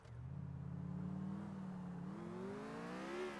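A car engine revving in Grand Theft Auto IV, a steady mid-pitched drone that climbs gradually in pitch as the car accelerates, sustained and fairly close with no talking.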